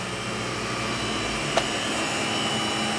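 A refrigerated van with a TransCooler 1340 N cooling unit has its engine held at medium revs, giving a steady broadband droning hum with one brief click partway through.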